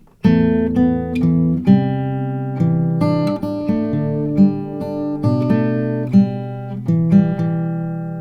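Fingerstyle acoustic guitar picking the opening two measures of a song, clean plucked notes over sustained bass tones at a moderate, even pace, played alone and close.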